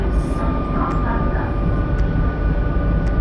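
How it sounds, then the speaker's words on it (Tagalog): A steady, loud rumble of a moving train heard from inside a carriage on a Paris line, with faint squeaks and clicks over the continuous roar. "Dito na ako sa train"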